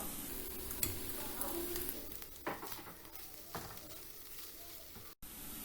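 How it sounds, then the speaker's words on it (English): Carrots being stirred in a pan with spiced soy nuggets, a soft continuous sizzle with scraping spoon strokes at an even level and no talk. "Give it a quick mix. I'll add in the carrots first and the beetroots later."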